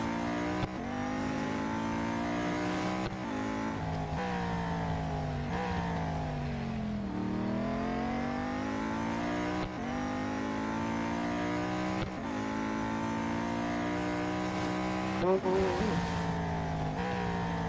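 Engine of a Venom F5 race car in Real Racing 3, a steady loud drone with rising and falling pitch as it shifts through gears over a long lap, with a brief tire squeal near the end.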